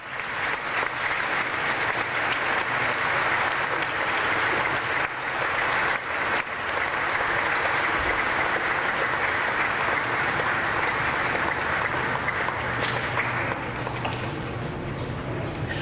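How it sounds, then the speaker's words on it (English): A congregation stands and applauds an archbishop at the re-dedication of a newly restored church, producing long, loud, sustained applause that fills the space evenly for the whole stretch. "big round of applause."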